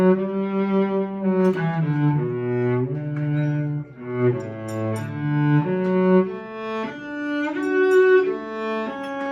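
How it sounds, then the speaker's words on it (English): A cello bowed upright in a melodic line of long sustained notes, rich low harmonics, close and steady with no talking over it. "and I play the cello"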